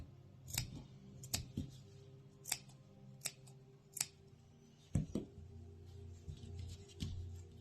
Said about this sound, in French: on fait des petits coups de ciseaux en essayant de ne pas abîmer sa couture